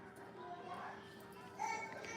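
Small children babble and chatter faintly in the background, a soft, steady murmur of young voices with a brief louder burst near the end.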